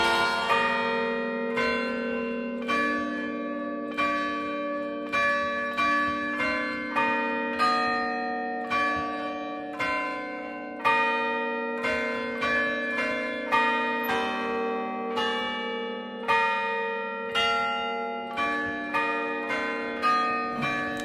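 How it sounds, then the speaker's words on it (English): Stationary church bells struck by the hammers of an Ellacombe chiming apparatus ring out in a steady sequence of clear, resonant strokes, each note decaying before the next, with no voices. "The Ellacombe apparatus is a mechanism devised for performing change ringing on church bells by striking stationary bells with hammers."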